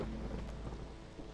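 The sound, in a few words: storm thunder and rain in video game Against the Storm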